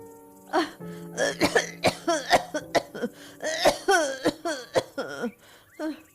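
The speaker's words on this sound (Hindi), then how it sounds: "तेज खांसी उठी और मुंह से खून आने लगा।" Harsh, heavy coughing in a rapid series of bursts, close and loud, with strained gasps between the fits.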